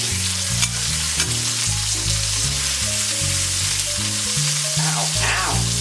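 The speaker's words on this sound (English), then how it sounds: "We just want a nice sear on both sides." A steak sears in a hot pan, a constant hissing sizzle running beneath loud background music with a stepping bass line that largely covers it.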